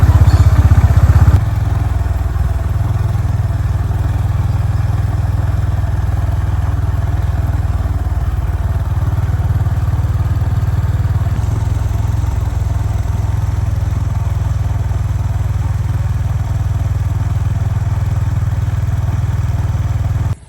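Motorcycle riding along a road through a village, its steady engine drone loud and close throughout with some rattling clatter, a brief louder burst at the start.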